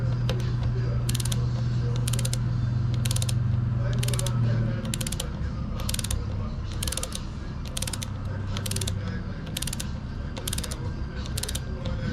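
A ratchet tightens the front-end pinch bolts on a Yamaha RD400 in short, evenly spaced bursts of clicking over a steady background hum, close by.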